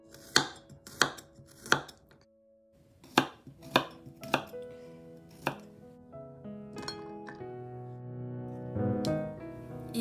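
Onion chopped with a kitchen knife on a board: a run of crisp, close knife strikes in an uneven rhythm, a pause, then more chops, followed by ringing clatter of dishes.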